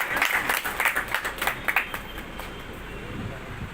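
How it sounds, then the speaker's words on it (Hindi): Audience applause at an award ceremony, a burst of fairly loud clapping for about two seconds that fades into room noise. "जोरदार तालियां"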